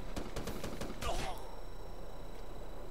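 Sniper gunfire in the multiplayer game Ghost Recon: Future Soldier: a few sharp clicking shots early on, then a louder burst of fire around the middle, followed by steady game ambience.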